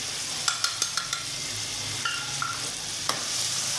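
Ground spices with crushed red chili, achar gosht masala and turmeric sizzle loudly in a hot pan for achar gosht, with a run of sharp spoon scrapes and taps against the metal, no one talking.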